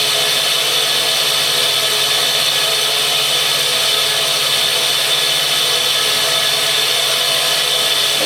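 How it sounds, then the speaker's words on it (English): A grinder runs continuously against a hardened tool steel centre punch, a steady bright hiss and whine held at even loudness throughout with no pauses and no talking. "You'll see a few sparks coming off as I grind this counterthink."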